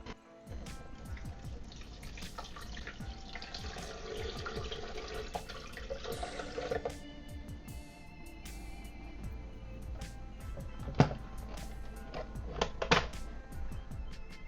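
Water poured into a blender jar holding uncooked long grain white rice and cinnamon sticks, a steady close splashing and trickling stream running for several seconds, with a few small clinks near the end.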